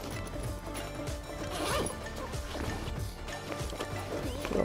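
Zippers on a new backpack with two zips are pulled open in steady rasping strokes, close and fairly loud over a busy background.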